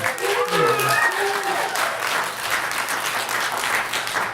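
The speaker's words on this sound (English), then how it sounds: "There's only a minor round of applause for that." Cinema audience at a horror film screening gives a modest round of applause, steady clapping with a voice talking over it at the start.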